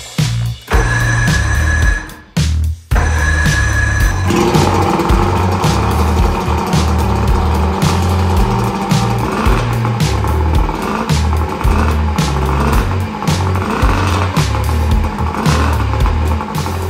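A Ford Focus RS engine cranks a couple of times, catches, then settles into a loud, steady idle with an uneven throb and clattering bursts running on for many seconds, with no talking.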